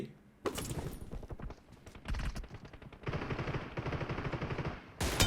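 Gunfire in PUBG Mobile during an 8-versus-8 match: close bursts of rapid shots broken by short pauses, with a loud crack near the end.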